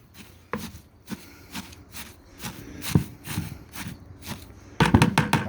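Food scraps such as vegetable bits and eggshells are spread by hand through a bucket of shredded paper, producing a series of soft rustling and scraping bursts. A louder, denser rustle comes at the end.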